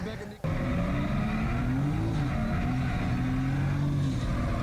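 A drift car engine revs and holds steady under sustained throttle, a continuous loud motor drone with rising pitch sweeps after a brief quiet start.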